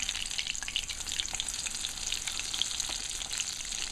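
Chicken pieces fry in a pan over low to medium heat, a dense, continuous crackling sizzle with fine spattering pops, close and steady throughout.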